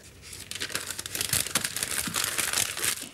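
Butcher's paper crinkles and crumples continuously as slices of Kantwurst sausage are wrapped at a butcher's counter, close and fairly loud, with irregular rustling bursts throughout.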